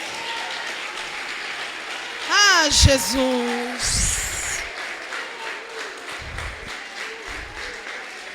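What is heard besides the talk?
church congregation applauding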